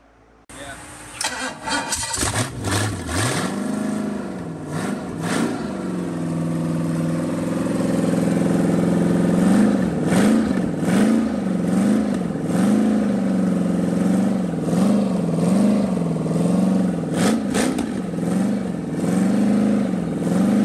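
A freshly rebuilt Pontiac 400 V8 cranks and catches, then settles into a loud, loping idle held slightly high for break-in, its rhythmic rumble pulsing steadily while a voice talks over it.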